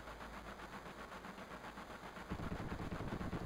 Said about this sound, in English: Oh. That's the sound of machine gun fire.